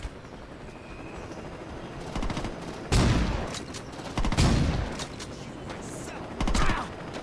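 Gunfire in the Saints Row 2 video game: scattered bursts of rapid shots over a low background din, with heavier volleys and mechanical clatter building in the middle and near the end.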